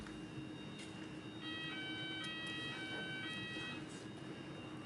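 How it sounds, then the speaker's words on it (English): An alarm sounds during a formal public inquiry hearing: a steady electronic tonal beeping, fairly faint and distant over room noise, with no speech over it. "I was told there wouldn't be a fire alarm today."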